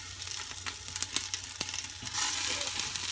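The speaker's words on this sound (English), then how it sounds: "the pan is getting pretty hot, so it should start sizzling here in just a second" Chili peppers sizzling in a hot pan for hot sauce, a steady frying hiss with scattered crackles and small clicks from stirring, fairly quiet and with no talking.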